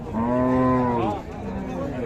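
A heifer gives a long, loud moo nearby at a cattle market, its low drawn-out call rising then fading, followed by quieter background murmur.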